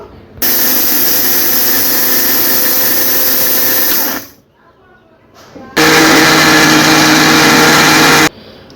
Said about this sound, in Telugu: ఇప్పుడు మిక్సీ అయితే వేసుకుంటా పిండి మెత్తగా పిండల్లే పట్టుకోవాలి